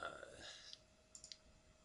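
Soft clicks from a computer mouse during animation software work, a few faint quick taps close together near the end, under low room noise.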